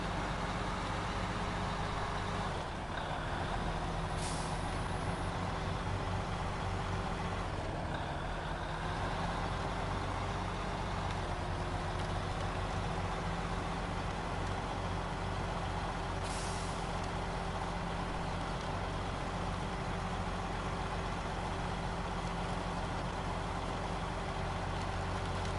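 In the SnowRunner video game, a truck engine drones and labors as the truck drives through a deep road rut. The loud, continuous rumble shifts slightly in pitch, with a few brief hissing bursts and no talking.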